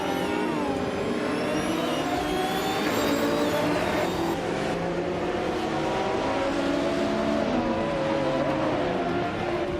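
Race cars roaring past in a racing game, high whining engines rising in pitch as they accelerate, then one fading away as others keep droning close by, loud and continuous with no talk.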